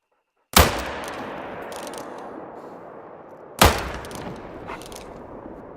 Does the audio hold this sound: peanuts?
no